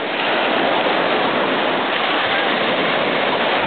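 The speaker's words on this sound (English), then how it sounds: "we're going to show the ocean." Ocean waves at Santa Rosa, a loud, steady roar of surf washing continuously close to the microphone, with no breaks and no voices.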